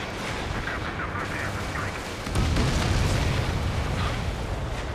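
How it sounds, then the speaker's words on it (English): An enemy transport blows up in Ace Combat 7, giving a heavy low rumble that swells midway beneath continuous jet roar and radio chatter. "Enemy transport destroyed."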